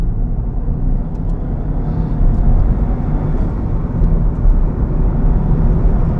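Subaru Impreza WRX STI Type R Version 3 turbo engine pulling hard in third gear around 4,000 RPM at about 40 mph, a loud, steady, close drone with a rising surge partway through and no talk over it.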